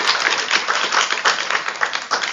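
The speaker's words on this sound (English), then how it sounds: "Please give him a round of applause." An audience at a statistics and data science lecture applauds to welcome a professor, dense continuous clapping from many hands throughout, with no talk.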